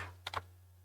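A few quick keystrokes on a computer keyboard, three light clicks close together, faint against a low steady hum.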